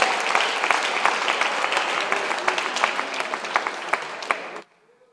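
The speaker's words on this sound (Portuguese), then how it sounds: "Aplaude a Jesus, porque isso é muito bom." Church congregation applauding during a sermon, dense rapid clapping from many people at close range, holding steady before cutting off abruptly near the end.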